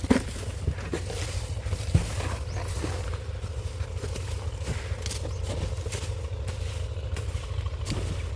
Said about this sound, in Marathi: खाली इंजिन आवाज येतोय